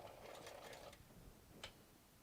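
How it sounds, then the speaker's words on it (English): A sewing machine runs a short burst of back stitching on a crossbody bag, a faint rapid mechanical chatter for about a second, then quiet with a single click. "I am back stitching."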